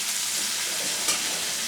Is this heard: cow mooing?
no